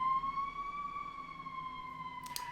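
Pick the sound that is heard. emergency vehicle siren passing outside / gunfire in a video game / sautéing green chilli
emergency vehicle siren passing outside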